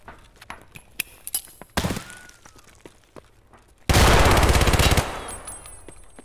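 PPSh submachine gun firing in a video game: a short, loud burst of shots, then a longer rapid automatic burst that rattles on for about a second over faint background sounds.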